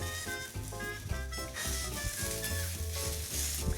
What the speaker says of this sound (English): Press it down so you get nice sear marks on your steak.